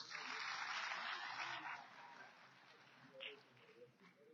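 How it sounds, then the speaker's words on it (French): A crowd at a formal official ceremony bursts into applause that swells briefly and then fades to scattered claps and low murmuring voices. "On applaudit très fort, s'il vous plaît."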